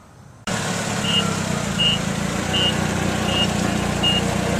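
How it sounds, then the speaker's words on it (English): Trucks arriving at a plant nursery loading dock, with an engine rumble and a regular series of five evenly spaced reversing beeps over steady vehicle noise, fairly loud and close. "Trucks are just coming in from our Huron location."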